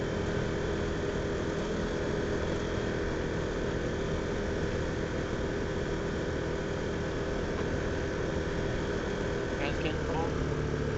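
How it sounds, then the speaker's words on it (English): Motorbike engine running steadily nearby with a constant droning rumble and wind noise throughout, no break in the sound. "you can't argue anymore whose bike is the one making all the noise"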